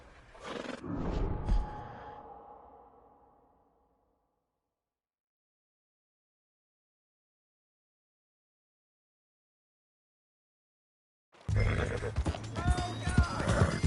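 A horse whinnies loudly in a PS4 video game, followed by hooves and a fading tail, then a long silence before busy game sound and voices return.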